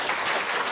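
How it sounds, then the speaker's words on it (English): A brief burst of dense crowd applause for alumni at a life sciences pitch night, a short, even wash of many hands clapping. "Let's give another big round of applause for all of our alumni."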